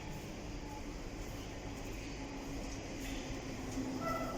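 A distant London train rolls slowly past Wembley Central station, a soft, continuous low rumble with faint tonal squeals from the rails.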